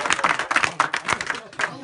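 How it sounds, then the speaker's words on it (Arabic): Audience claps in quick uneven bursts over lively chanting voices, a dense close patter of hands joined to a spoken or sung poem recital. "صفقوا"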